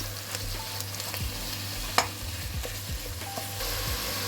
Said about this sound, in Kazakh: Енді осыған тартылған етімізді саламыз. Осыны жақсылап қуырып аламыз.